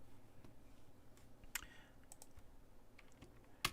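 Someone types on a computer keyboard at a desk, quiet and fairly close, with a few scattered keystrokes and louder clicks at irregular intervals and no talk over it.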